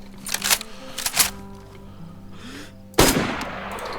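Gunfire in the survival video game DayZ: several sharp shots crack in quick bursts, then a louder close shot rings out and decays, with no talking.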